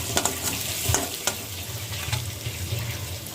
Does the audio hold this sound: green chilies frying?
yes